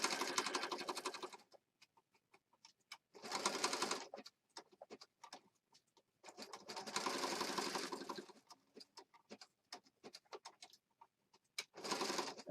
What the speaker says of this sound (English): So I'm going to stitch right around the word peace.